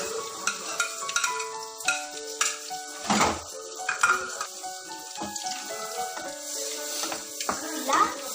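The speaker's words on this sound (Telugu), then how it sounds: "ఇప్పుడు ఇవి మనం ఆయిల్లో వేసుకొని గోల్డెన్ బ్రౌన్ కలర్ వచ్చే వరకు వేయించుకోవాలి" Eggs frying in oil in a pan until golden brown, with a steady crackling sizzle throughout and frequent clinks of a utensil stirring against the pan, loud and close, with a voice speaking over it.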